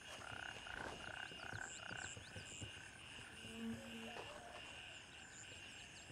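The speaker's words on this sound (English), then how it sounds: "Oh, the frogs sound nice." Frogs croak in a steady outdoor chorus in the video game Gray Zone Warfare, with faint bird and insect calls layered over a constant low background hiss.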